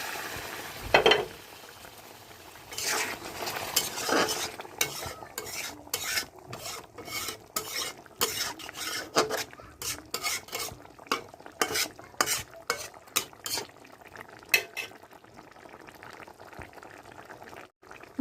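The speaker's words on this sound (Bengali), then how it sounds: "ঝোল যেহেতু ফুটছে" Curry gravy bubbling in a pan while cooking fish and paneer kofta, with soft simmering underneath repeated scraping and stirring strokes of a spoon against the pan, close and fairly quiet.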